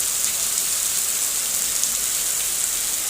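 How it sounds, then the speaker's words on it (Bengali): Rain falls steadily on a road, a dense, even hiss with no pauses or voices. "এই যে আবার বৃষ্টি হচ্ছে।"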